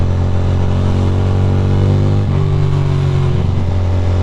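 A Ducati motorcycle accelerates on a ride between Red Hook and Williamsburg in New York. The engine drones loud and close with a steady rising tone, and the pitch shifts briefly partway through.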